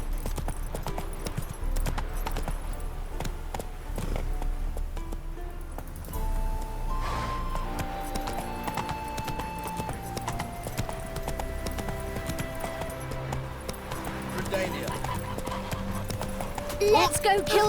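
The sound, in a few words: horse galloping in The Witcher 3 video game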